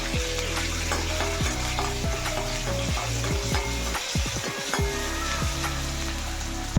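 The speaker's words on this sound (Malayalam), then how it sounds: "എണ്ണ ചൂടായിട്ടുണ്ട്. ഇതിലേക്ക് ഇഞ്ചി വെളുത്തുള്ളി ഇട്ട് കൊടുക്കാം. ഒന്ന് വഴറ്റി കൊടുക്കാം." Ginger and garlic sauté in hot oil, giving a loud, dense sizzle with irregular spatula scrapes and stirring knocks throughout and a busier patch of rapid clattering partway through.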